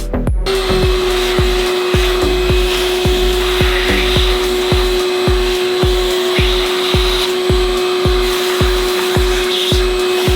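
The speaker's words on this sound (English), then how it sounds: "Misplaced the little handle for this bit, so I am using an impact." An impact wrench drives a bolt while a Subaru EJ207 engine is installed in a neglected STI, a steady loud whirring whine with a fast regular hammering rattle running unbroken throughout, close up.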